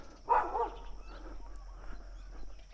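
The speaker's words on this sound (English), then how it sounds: "And yeah, little dog." A small dog on a suburban back street in East Innisfail gives a single distant bark, followed by faint yips over low outdoor background noise.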